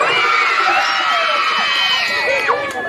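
Festival crowd at a costume pageant shouting and cheering loudly, overlapping whoops and high excited voices forming a dense, sustained roar.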